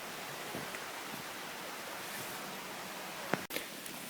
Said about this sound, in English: We can hear the brook. Right over here is a Cooper Brook.